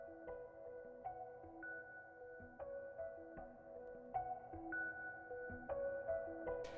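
A bright electric piano synth in Omnisphere 2 plays a repeating arpeggio, notes stepping up in a steady looping pattern, clear and alone.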